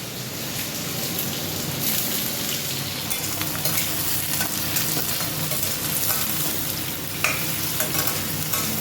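Onions fry hard in mustard oil in a pan, making a loud, dense, continuous sizzle with crackling throughout and occasional stirring sounds, and no voices.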